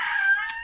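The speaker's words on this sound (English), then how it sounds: "Boy, them chickens are fired up about this meal." A rooster crows near an outdoor grill where a lamb shoulder chop burrito is being cooked: one loud, sustained cock-a-doodle-doo call, bright and close, with no talking over it.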